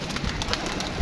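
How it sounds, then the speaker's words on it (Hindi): Pigeons in a rooftop loft give soft, low cooing, a brief murmur over a steady background, close and fairly quiet, with no talking. "ये कबूतर देखें माशाल्लाह"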